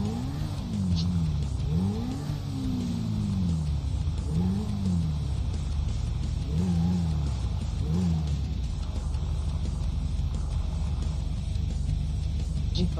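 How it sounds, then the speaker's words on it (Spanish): Motorcycle being ridden in a game, engine note rising and falling in repeated revving sweeps during the first half, then a steadier drone, with faint voices underneath. "Está manejando la moto como un campeón"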